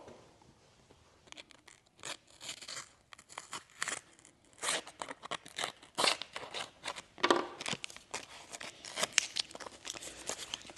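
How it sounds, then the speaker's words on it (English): A razor blade slicing off excess paper in a series of short scraping, crinkling strokes, quiet and close, with an irregular rhythm. "find a razor blade and cut this excess off"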